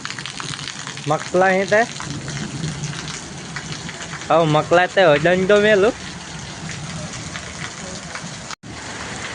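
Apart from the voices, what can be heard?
heavy rain with thunder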